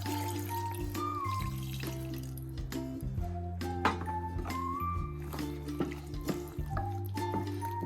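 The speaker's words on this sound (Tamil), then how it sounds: "இப்போ இதில் வாட்டர் ஊற்றிக்கலாம்" Water trickles and drips steadily into a cooking pot, a continuous liquid flow with small splashes, close by, under a low steady hum.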